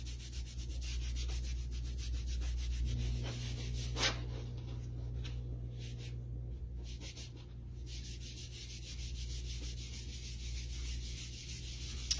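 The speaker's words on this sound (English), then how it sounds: "Almost done with the waxing." Wax is rubbed by hand onto flat wooden cutouts, a steady close scrubbing and rasping that runs continuously with faint rhythmic strokes, quiet and with no voices.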